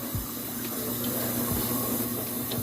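Water pours steadily from a tap into a pot of grits on the stove to thin the mixture, a continuous close rushing hiss with a faint low hum beneath it.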